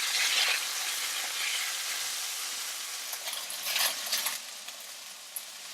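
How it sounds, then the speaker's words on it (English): Bamboo shoots, dried shrimp and gingko kernels stir-fry in a pan, giving a steady, fairly loud sizzle with scraping stirs and small clinks toward the end. "Then add in the bamboo shoots, dried shrimp, gingko kernels, and just stir up."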